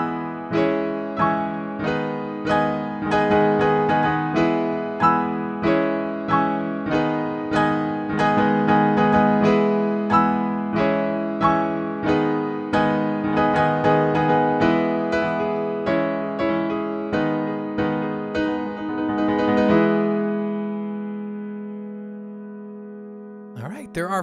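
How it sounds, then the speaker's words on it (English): Solo piano plays the intro of a song, a steady rhythmic run of chords and melody that stops at about twenty seconds and leaves a fading ring. "We're going to look at the intro in this first video, which sounds like this."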